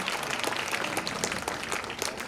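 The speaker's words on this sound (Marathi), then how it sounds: "सगळे एकदा जोरदार टाळ्या वाजवून त्यांचं स्वागत करू" An audience at a Marathi literary conference claps in welcome for an award-winning author, a dense, even wash of applause from many hands that fills the short stretch without pause.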